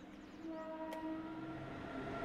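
A coal freight train led by dual WAG-7 locomotives passes on the opposite track in a Train Simulator game. Its steady rolling rumble carries faint tonal hums and one brief sharp click, with no talk.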